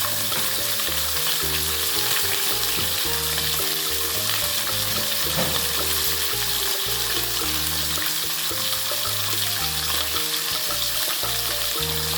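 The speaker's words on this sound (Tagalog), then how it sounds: "may pinapainit akong mantika. Yan. Mainit na siguro, pwede nang ilagay. At ang ating pinipritong pangsahog." Ingredients for Ilocano-style pakbet sizzle steadily in hot cooking oil in a home kitchen, a loud continuous frying hiss with periodic stirring clatter and no talking.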